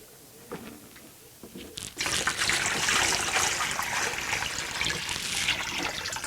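Sanitizing liquid poured into a Mr Beer home brewing bin: quiet handling at first, then a loud, steady gush of liquid splashing into the plastic bin, close up and continuing to the end.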